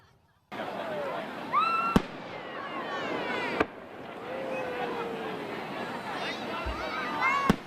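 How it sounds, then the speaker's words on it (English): Fireworks bursting outdoors at a Fourth of July celebration in Auburn, sharp bangs and crackles spread across the scene with a steady background of crowd murmur and whistling rockets. "Here's a look at the fireworks in Auburn tonight as the town holds its 4th of July celebration"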